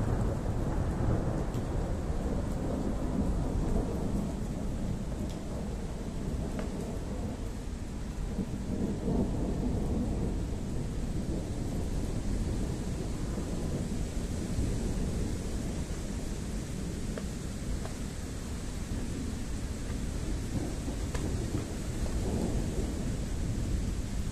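A heavy thunderstorm over Ingolstadt: continuous loud rain hisses throughout while deep thunder rumbles roll in and out, with no voices.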